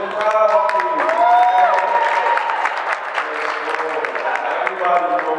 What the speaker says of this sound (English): Can I get a round of applause from the crowd, please?